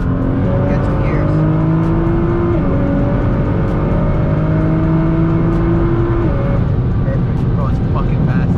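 A Nissan GT-R with a flame tune on a base map accelerates hard, its engine note climbing through the gears with brief shift breaks, loud and close from inside the car, with voices talking over it.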